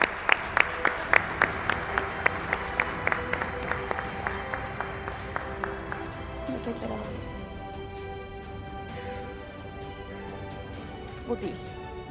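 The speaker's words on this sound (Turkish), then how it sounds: "Sayın Galip Aykaç'ı alkışlarla sahneye davet ediyorum" Audience applause at an opening session of a development congress, sharp rhythmic claps at first that thin into a steady wash of clapping as guests are called on stage, with a voice speaking over it.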